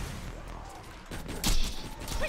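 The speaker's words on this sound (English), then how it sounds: "Explosions!" Gunfire and explosions from the shooter video game Borderlands 2: a rattle of scattered shots, then a louder blast about halfway through and more shots after it, set in a busy game soundscape.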